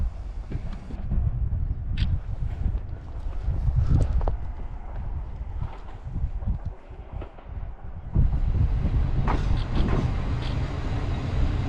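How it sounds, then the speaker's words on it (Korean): A local train bound for Rumoi pulls into a station, a low rumbling roll with wind buffeting the microphone and a few clanks, sustained and fairly close. "한 시간에 가까운 시간을 대기한 끝에 루모이행 열차가 들어옵니다."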